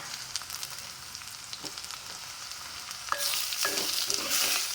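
Okra and sliced tomato fry in a clay pan over a medium flame, a steady close sizzle with scattered stirring scrapes that grows louder and brighter in the last second and a half.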